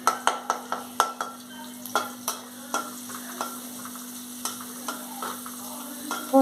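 Pounded garlic frying in a pan, a steady close sizzle broken by a quick run of sharp spatula clicks at the start and scattered scraping strokes after, with no talk.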